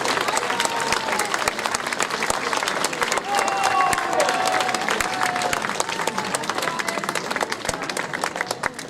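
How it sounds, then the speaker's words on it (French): A crowd applauds a costumed contestant on a podium at a Venetian-themed costume event in Chanaz, with steady clapping sustained throughout, some voices underneath and a brief whistle-like tone partway through. "On peut l'applaudir bien fort, Angélique."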